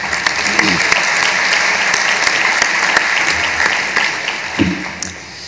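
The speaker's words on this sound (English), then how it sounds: "Let's give them another round of applause." An audience applauds at a State of the City event, sustained loud clapping filling the room for several seconds before tapering off.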